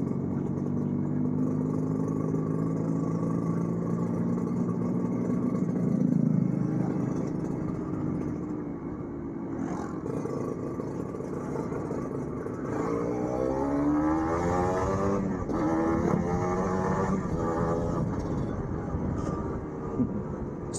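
Kawasaki Ninja RR two-stroke motorcycle fitted with an Aitech Racing exhaust, its engine droning steadily and rising and falling through revs up close, with a rider's voice talking faintly over part of it.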